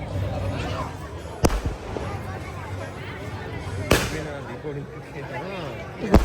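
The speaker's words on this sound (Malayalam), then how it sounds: "പടക്കം കാര്യങ്ങളൊക്കെ ഉണ്ട് കേട്ടോ." Small firecrackers going off at a home in Kerala after a wedding function, three sharp isolated bangs spaced a few seconds apart over ongoing talking.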